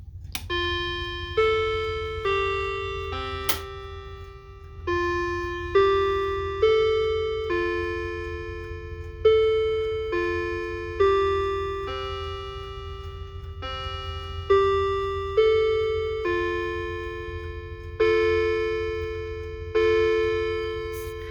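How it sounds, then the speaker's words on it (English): A Seiko dual-chime clock plays the Westminster melody, with clear, ringing bell tones in a steady repeating sequence, each note decaying slowly, close and alone over a faint low hum. "and here's Westminster."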